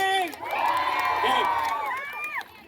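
A lively crowd at a Punjabi Teej fair cheers, whoops and shouts in a loud, sustained burst, with excited voices rising and falling before it drops off near the end.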